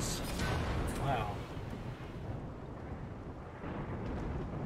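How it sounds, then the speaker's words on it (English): Rainy thunderstorm weather in the video game RimWorld, a steady broadband wash of rain with low rumbling throughout, moderately quiet and continuous with no distinct thunder crack. "Alright, but it is a rainy thunderstorm."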